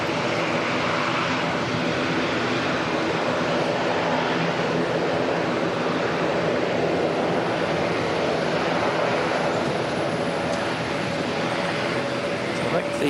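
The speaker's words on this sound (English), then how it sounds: "The Retro-Roo Qantas 143 coming in from Sydney." A Qantas airliner in retro livery arrives at Auckland from Sydney, a distant, moderate jet roar sustained evenly throughout with no voices.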